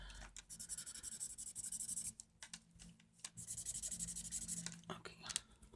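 Dry scratchy scribbling of a pen dragged back and forth across paper in quick bursts, close up, with a short pause midway.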